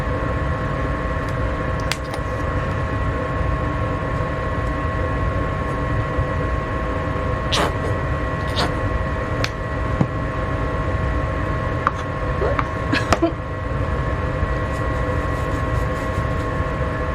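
A household furnace runs as a steady, even mechanical hum with a constant tone, joined by a few brief clicks and taps, with no one talking.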